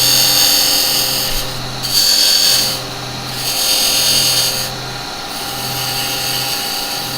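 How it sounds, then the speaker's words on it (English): A brush is held against the spinning edge of a turned wooden lidded pot on a lathe, giving a steady close scratchy rubbing over the motor hum that swells and eases in repeated strokes. "I'm just going to brush that so it cleans that edge."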